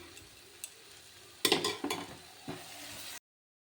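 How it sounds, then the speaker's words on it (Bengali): Spices and tomatoes are stir-fried in a kadai over a low gas flame, with soft sizzling under a few scraping stirs of a spatula against the pan, then a brief silence. "এবার এটা আমি ভালোভাবে গ্যাস ফ্লেমটা লোতে রেখে কষিয়ে নেব যাতে টমেটোগুলো ভালোভাবে সিদ্ধ হয়ে যায়"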